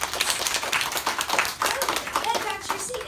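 A classroom of students bursts into a round of applause, brisk dense clapping that runs steadily throughout at moderate volume, with faint children's voices in the background.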